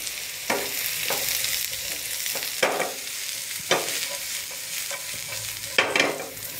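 Sliced mushrooms fry over a high flame with a loud, steady sizzle, and a spoon scrapes and stirs the pan every second or so.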